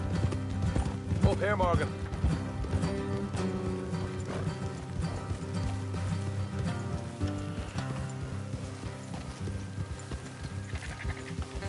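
Horses clip-clop at a steady trot in Red Dead Redemption II, hooves blending with a soundtrack and game ambience while someone speaks over them.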